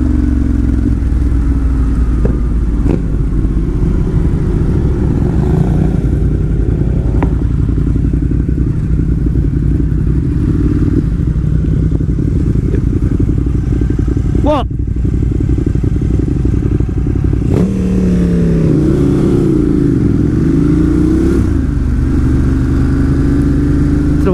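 A Ducati motorcycle rides along twisty country roads in the Fens, its engine droning loud and steady with wind rush and occasional shifts and revving swells as it accelerates.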